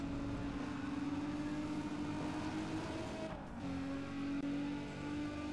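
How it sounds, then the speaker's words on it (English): A car engine in the racing video game Need for Speed ProStreet hums at a steady pitch, dipping briefly as if shifting or lifting off before holding its drone again, moderately loud with no talk. "This car does make quite good noise."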